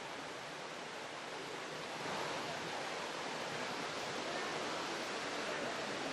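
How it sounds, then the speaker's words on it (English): A small indoor waterfall in the Eden Project rainforest biome gives a steady, broad rushing hiss of falling water, constant and moderately loud for the whole stretch, with no voices. "There's even a mini waterfall"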